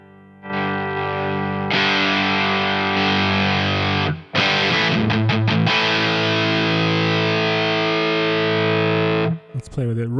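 Heavily distorted electric guitar through the STL Tones AmpHub amp plugin, sustained saturated chords ringing loud and thick, with a brief break and a few choppy strums midway before the tone resumes and cuts off near the end.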